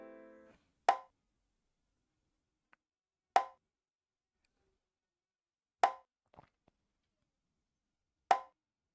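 Four hollow conga drum hits, evenly spaced a couple of seconds apart, each a short resonant pop against near silence, with a few faint taps between.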